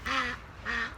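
Two loud quacking bursts from pet ducks close by, each lasting about a third of a second with a short gap between them, and no talking over them.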